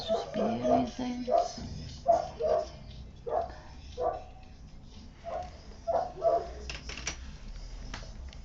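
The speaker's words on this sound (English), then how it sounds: "It's one of the dogs making funny noises." A dog makes odd, funny noises, a series of short yips and whimpering vocalisations repeating at irregular intervals, close by and moderately quiet in an indoor room.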